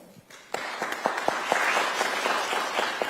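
Audience applause for forum panelists at a policy forum on US–Taiwan relations, starting abruptly after a quiet moment and swelling into steady, dense clapping that fills the room for a few seconds.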